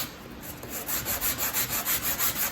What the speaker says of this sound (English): just take the sheets of sandpaper, lay them on my table, and just run the pieces across the top